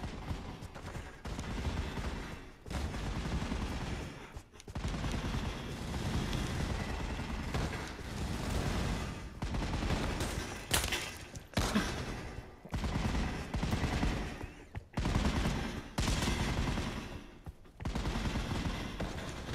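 A Sten submachine gun fires in the World War 2 mode of the Pavlov virtual reality game, with repeated loud automatic bursts separated by brief pauses.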